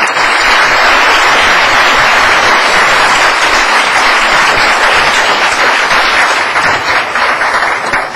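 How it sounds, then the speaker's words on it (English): A lecture audience at a health policy talk gives Dr. Wood another round of applause, a continuous, loud wash of many hands clapping that holds steady and fades slightly at the end. "I'd like to give Dr. Wood another round of applause."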